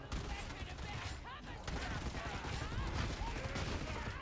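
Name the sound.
gunfire from a video game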